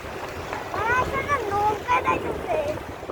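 A passenger launch chugs past on a river over gusty wind noise, its low drone steady beneath a nearby voice.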